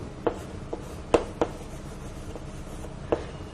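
A teacher writes notes during a Class 9 science lecture, a handful of scattered short scratchy strokes and taps at irregular intervals over a quiet room tone, with no talking.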